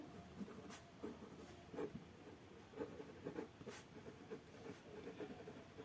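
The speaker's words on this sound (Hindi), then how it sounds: "तो हम लोग यहाँ लिखेंगे" Pen scratching across paper while accounting entries are written out by hand, soft intermittent strokes with brief pauses, fairly quiet and close, with no talking.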